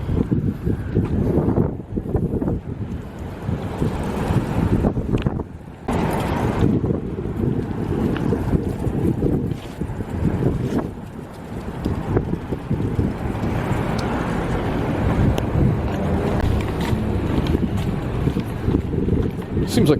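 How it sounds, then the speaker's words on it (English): Strong night wind in the barrens of central Nassau roars and buffets the microphone in loud gusts, with brief lulls, while someone speaks now and then. "Seems like the wind just died down a little bit."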